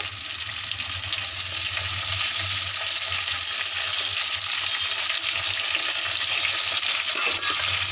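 Onion, garlic and diced tomatoes sauté in oil with a loud, steady hiss and crackle that stays close and unbroken throughout, with no talking.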